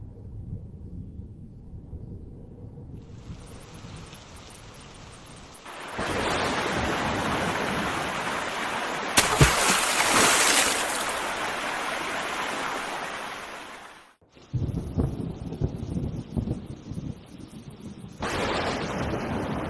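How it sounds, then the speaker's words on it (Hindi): Heavy rain pours in a dense, steady roar that swells and drops in bursts, with a sharp crack partway through like nearby thunder. "देखो तो कितनी बारिश हो रही है।"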